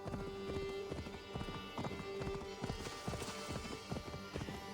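A horse walks over ground, its hooves clopping in a steady, close rhythm, with a brief louder knock right at the end.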